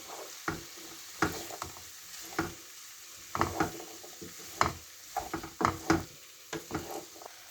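Potatoes and tomatoes cooking in a frying pan, a soft sizzle under repeated scraping and stirring strokes that come in irregular bursts, close and moderately quiet with no talking.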